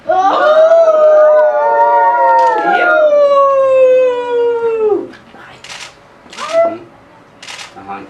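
People imitate a coyote howling at a live storytelling event, sustained wavering voiced howls layered together for about five seconds, followed by short breathy bursts and scattered sounds.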